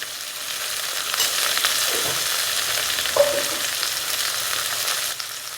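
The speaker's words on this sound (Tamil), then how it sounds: "ஒரு ரெண்டு அல்லது மூணு தடவை நல்லா கிளறி விட்டுக்கிட்டோம்" Onions and spices fry in a pan for avarakkai kara kulambu, giving a steady soft sizzle with light scraping from a spoon stirring it over a few seconds, and no one talks.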